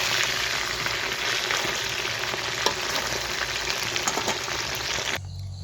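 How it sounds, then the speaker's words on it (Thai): Eggs frying in a pan in a home kitchen, a steady close hiss and crackle of oil with small pops, cutting off abruptly near the end. "ทอดไข่ให้น้องนั่น"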